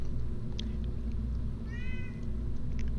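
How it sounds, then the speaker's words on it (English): A cat meows a couple of times over a steady low rumble of background noise, the cries short and fairly clear. "And the cat is going off again."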